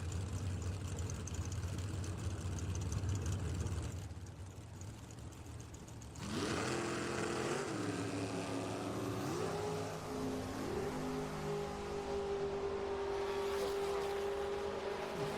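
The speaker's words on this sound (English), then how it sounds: "Listen to them work the throttle down the track" Drag racing cars at a national event roar down the track, a loud engine drone giving way around six seconds to rising throttle revs with shifting pitch that climb and hold steady to the end.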